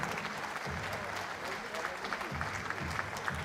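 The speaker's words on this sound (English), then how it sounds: "do keep that round of applause going as well for your gallant brother up there from Ukraine" A boxing fight-night crowd applauding a Ukrainian fighter, a thick, sustained wash of clapping from a large arena audience, with an announcer's voice talking over it.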